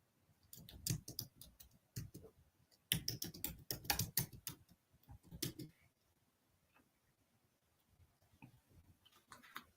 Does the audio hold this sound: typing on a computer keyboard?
yes